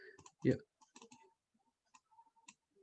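Sharp, quiet computer mouse clicks in short clusters during a UI/UX design software demo, interspersed with brief speech.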